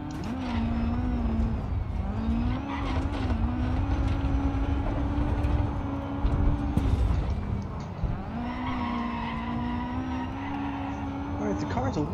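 A rally car in the Dirt 4 video game drives on a rallycross track with a loud, steady engine drone that dips and climbs through gear changes, with some skidding and tire noise underneath.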